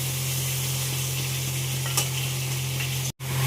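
Whole cumin, dried red chili and bay leaf sizzle in hot oil for a Bengali tempering, a steady close frying hiss with a low hum beneath and a sudden brief dropout near the end.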